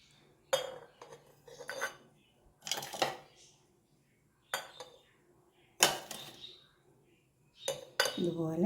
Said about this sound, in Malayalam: ഒരു കുപ്പി എടുത്തിട്ട് അത് നന്നായി മൂടി വെക്കാം